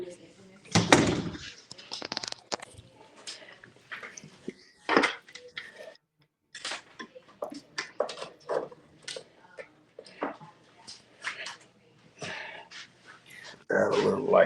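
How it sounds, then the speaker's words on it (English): An indoor door is pushed shut with a loud thump near the start, followed by scattered clattering and handling noises, with a second heavy knock partway through and louder rustling at the end. "Let me let me shut this door also"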